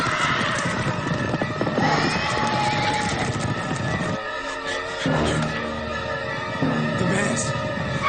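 Mares neigh and whinny loudly amid clip-clopping hooves, with a voice speaking and other activity layered underneath.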